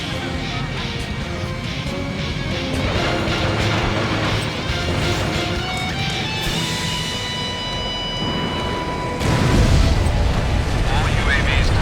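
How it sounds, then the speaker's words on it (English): A missile launched from a fighter jet in Ace Combat Infinity streaks off and explodes in a loud crashing boom over roaring engine noise, with radio voices talking throughout. "Fire a missile."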